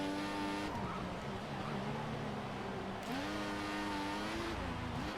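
Race cars in F1 2014 whine steadily with high engine tones, pitch dipping and rising as cars pass at around one and three seconds, a continuous moderately loud roar.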